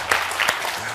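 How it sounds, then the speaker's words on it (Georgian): Audience applause comes as a short burst of clapping, with a couple of sharper claps standing out in about a second of sound. "აპლოდისმენტები"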